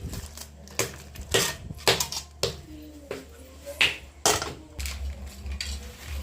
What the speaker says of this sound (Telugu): మా ఆయన వచ్చేసి బెల్లం నలగొడుతున్నాడు